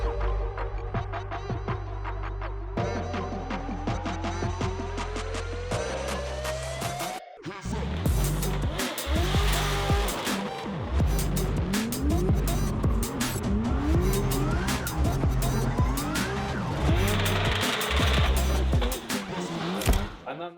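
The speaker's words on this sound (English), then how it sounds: "It slides initially, but then I'm limited by power." A drift car fitted with a drift dynamics system slides through a corner in an RDS qualification stage, its loud engine revving under continuous tire squeal, with a sharp rise in intensity midway through as the slide builds.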